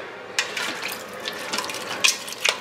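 A spoon stirs clam chowder in a pot, giving soft, wet scraping and light clinks in short bursts close by over a quiet background, with no one talking.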